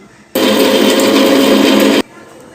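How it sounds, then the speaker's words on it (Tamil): A mixer grinder jar grinds coconut, asafoetida, tamarind and dried chillies for chutney in one loud, steady, close whirring burst of under two seconds that starts and stops abruptly. "இப்போ மிக்சி ஜாரில் ஃபஸ்ட்டு தேங்காய், பெருங்காயம், புளி, காஞ்ச மிளகாய் எல்லாத்தையும் அரைச்சி எடுக்கணும்."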